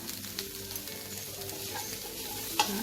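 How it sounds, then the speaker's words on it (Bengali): Breakfast stirred in a hot pan after pepper and salt go in: a steady close sizzle with soft scraping strokes and one brief clink near the end. "এটাকে কয়েক সেকেন্ড নাড়াচাড়া করে আমি এটাকেও নামিয়ে নেব।"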